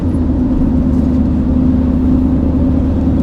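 A Honda Element with an aftermarket exhaust drones steadily while driving at cruising speed, a constant low hum with road and tire noise, heard from inside the car.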